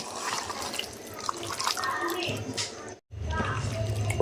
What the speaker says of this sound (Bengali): চলো মাংসটা ধুয়ে নিই পটাপট করে